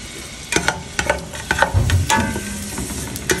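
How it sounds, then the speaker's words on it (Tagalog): Garlic and onion sauté in hot oil with a close, crackling sizzle. Clattering utensil knocks and stirring scrapes come in irregular bursts, with a low thump near the middle. "Kailangan natin mainit ang mantika. Lagay ang bawang, sibuyas."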